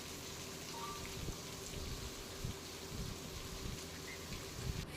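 Unseasonal rain driven by strong wind in Gujarat, a faint, continuous patter of drops on surfaces with a low, even wash and occasional soft thumps, no voices.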